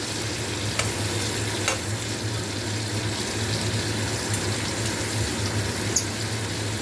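Coarsely cut onions fry with kalonji (nigella seeds) in a steady, close sizzle, with a few light utensil taps over the continuous crackle.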